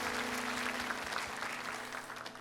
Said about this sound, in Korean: 우리 하나님께 박수로 감사와 영광 올려드리겠습니다